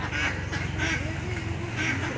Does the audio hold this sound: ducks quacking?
yes